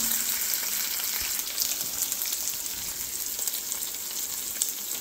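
Onions and green chilies fry in a pan, giving a steady, close hiss of sizzling oil that holds at an even level throughout, with faint crackles scattered through it and no voices.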